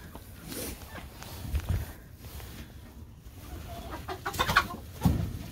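Hens clucking softly in a snowy coop while eggs are gathered, scattered low clucks and rustling movement close by, with a person talking quietly over them.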